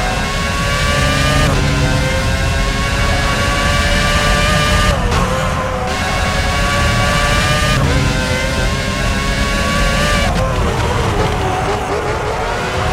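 Race car engine from the F1 2006 video game during a fast qualifying lap at Hockenheim, a loud steady high-revving whine with gear shifts and pitch changes, continuous throughout.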